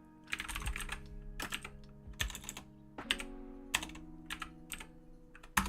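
Fingers type on a computer keyboard in quick bursts of crisp clicking keystrokes separated by short pauses, close and clear with no talking.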